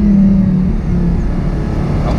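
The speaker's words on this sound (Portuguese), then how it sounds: "Escape todo originalzão." An Audi R8 engine on its stock exhaust rumbles loudly up close, a deep steady roar that swells and eases slightly without any talk over it.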